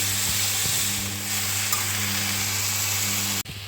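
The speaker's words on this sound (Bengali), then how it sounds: "এই ধনে পাতাগুলো পুরো ঢেলে দিলাম এগুলো নরম হওয়া অবধি অপেক্ষা করব" Coriander leaves for a chutney sizzle in a hot pan with a loud, steady hiss that runs unbroken, then cuts off abruptly near the end, heard up close without speech.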